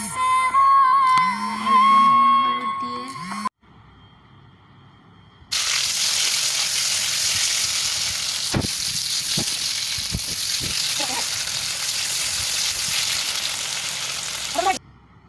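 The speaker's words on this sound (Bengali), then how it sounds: "এবার আলুটা ভেজে নেব" Potatoes frying in oil give a broad, steady sizzling hiss that starts after a short burst of music and a brief quiet gap, close and continuous with a few stirring knocks and clacks.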